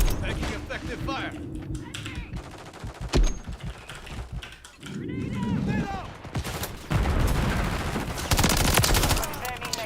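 Gunfire in Call of Duty Modern Warfare 3 (2023): sharp bursts of automatic rifle fire and single shots, loud and close, amid battle effects and brief whizzing sounds, with a player's voice speaking in places.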